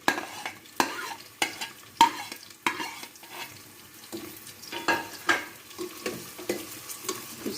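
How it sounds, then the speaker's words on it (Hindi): Chopped onions fry in hot cooking oil for chicken karahi, a low sizzle under a spoon scraping and tapping the pan about once a second, close and moderately loud, with no speech. "अब हम इस पर प्याज डाल रहे हैं।"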